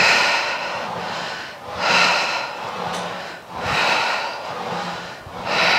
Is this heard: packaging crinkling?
no